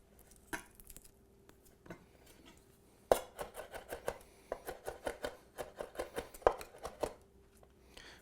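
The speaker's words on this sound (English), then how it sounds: "we're getting a pretty fine mince here" A knife mincing five garlic cloves on a cutting board, rapid close chopping taps in a quick irregular rhythm that start sparse and grow dense and steady.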